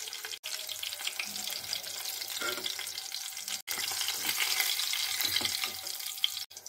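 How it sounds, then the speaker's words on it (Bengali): Pieces of catla fish fry in hot oil, giving a continuous crackling sizzle at close range, broken by a few brief pauses. "কাতলা মাছটা ভেজে নিচ্ছি, একটা সাইড হয়ে গেছে, মাছগুলো ভাজা হয়ে গেছে,"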